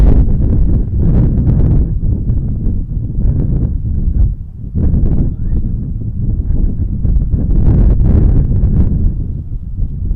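Strong gusting wind buffets the microphone at Montréal-Trudeau International Airport, a loud low rumbling roar that swells and dips with a short lull midway, with brief talk mixed in.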